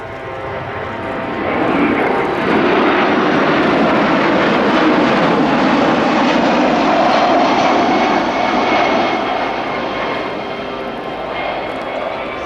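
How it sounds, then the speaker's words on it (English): A Japanese Maritime Self-Defense Force Kawasaki P-1 maritime patrol jet with XF7 engines makes a faster flypast at 250 knots at an air show, its loud broad engine roar swelling, holding, then slowly fading. "a faster flypast coming up now, the P-1 coming in again from our right, this time up to 250 knots"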